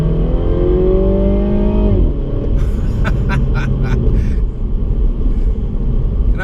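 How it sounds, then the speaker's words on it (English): A Mini Cooper S hatchback accelerates hard, its engine note climbing loudly before the revs drop and a rapid burst of crackling exhaust pops follows over a continuing rumble. "when you punch it and you hear that exhaust system, it pops"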